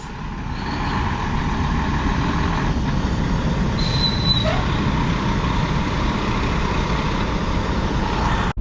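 A loaded heavy truck hauling a full load of material idles steadily in the open, a continuous broadband engine rumble that holds at an even level for several seconds with a brief higher tone partway through.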